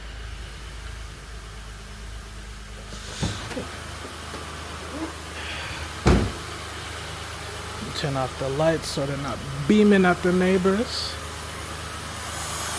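A car engine just started idles steadily as a low, even hum with a faint vacuum leak from a hose, while people talk over it and a sharp knock lands midway.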